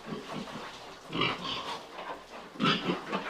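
Several pigs grunt and snort on a small farm where hungry animals wait for grain, the grunts coming in short bursts of two clusters, fairly close and moderately loud, with no talk over them.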